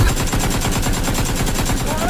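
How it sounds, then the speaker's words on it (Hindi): Rapid machine-gun style gunfire from a played clip, a dense continuous rattle of loud shots throughout. "अगला बंदा उसको फायरिंग कर रहा है"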